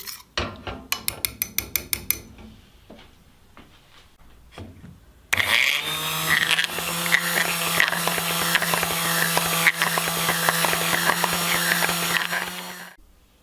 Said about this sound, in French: Quand le chocolat est bien fondu, je vais simplement mixer.